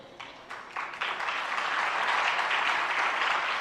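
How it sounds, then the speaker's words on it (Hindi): An audience at a religious sermon breaks into applause, starting with a few scattered claps and swelling into sustained, dense clapping from a large crowd. "ताली बजाने से काम नहीं होगा,"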